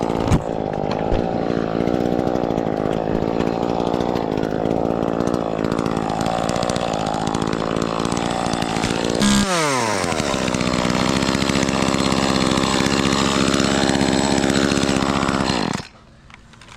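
A Stihl-style 2511 top-handle chainsaw works in a dead tree top, its engine running steadily loud and close, then dropping to a sustained idle that continues before cutting out abruptly near the end.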